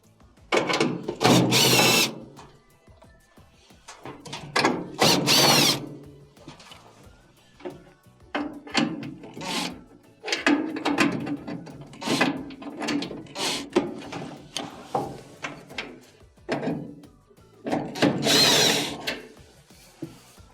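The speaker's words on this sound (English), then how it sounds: "we will have to remove 3 1/4 inch screws on the back, here, here, as well as one underneath right here." A power drill whirs in repeated short bursts while backing out screws from the back and underside of a GE dryer, with quiet gaps and handling noise between each run.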